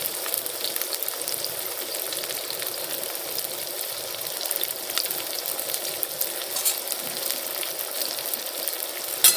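Fried rice fries in a pan with a loud, continuous hiss and crackle that stays steady close up from start to end.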